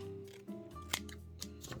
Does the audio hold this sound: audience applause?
no